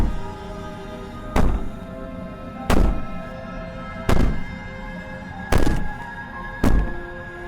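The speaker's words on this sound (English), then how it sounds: "Maybe the banging and wailing will stop if you just don't pay attention to it." In the video game Slay the Princess, heavy bangs strike a wall five times at slow, uneven intervals, each a deep booming thud that echoes over a steady droning background.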